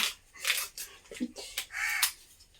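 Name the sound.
crow cawing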